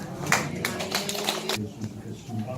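Guests at a Korean church ordination and licensing ceremony break into a brief, moderately faint burst of congratulatory clapping that fades after about a second, with voices murmuring around it.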